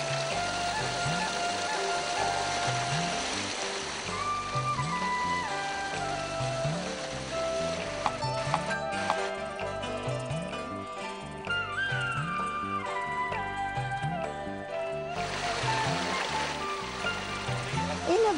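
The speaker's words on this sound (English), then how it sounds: "he uses a fan operated by a small waterfall which spins his tools to cut wood" Small waterfall driving a fan that spins woodturning tools in a Northern Pakistan village workshop, a steady rushing water bed with a regular rhythmic thump about twice a second, scattered higher clatter and squeak on top, moderate distance, no voices.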